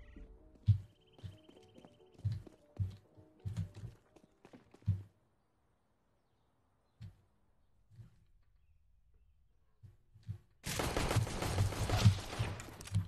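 Gunfire in Counter-Strike: Global Offensive during a competitive match: a run of sharp, spaced shots and thumps up front, a quiet gap, then a loud, dense burst of rapid fire at the end.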